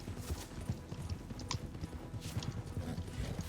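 Horse hooves pound in a fast, steady gallop during a race in the Red Dead video game, the clip-clop rhythm loud and continuous, with a few sharp clicks over it.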